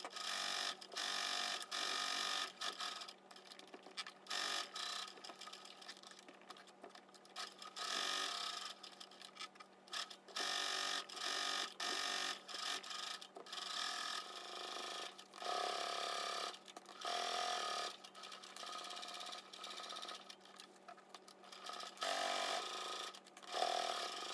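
Sewing machine stitching a tablet case lining, a close mechanical whirring in repeated bursts of a few seconds each, separated by short pauses.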